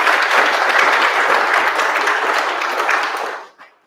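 Applause at the inaugural Kallista village meeting, a dense, steady round of clapping from a gathered crowd lasting about three and a half seconds before fading quickly.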